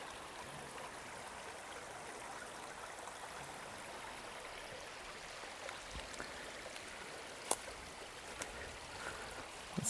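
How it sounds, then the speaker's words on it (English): Spring water wells up out of the ground in limestone country, giving a faint, steady rushing trickle close by, with no voices and only a few small clicks. "the water is flowing out just beneath my feet."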